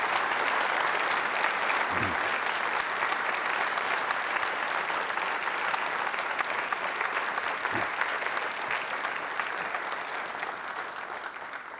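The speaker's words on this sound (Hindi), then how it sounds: "तालियां उनके लिए और अपने लिए जोरों से बजाइए आप।" Audience applause at a Holi quiz show at MJRP University: a dense, steady crowd clapping that holds at full strength for about twelve seconds and tapers only slightly at the end.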